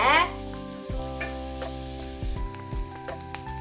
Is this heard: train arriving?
no